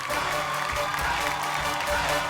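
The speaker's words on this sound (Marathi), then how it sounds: "जोरदार टाळ्या" A studio audience on a Marathi TV show claps continuously, a dense, even wash of applause that fills the whole moment without pause.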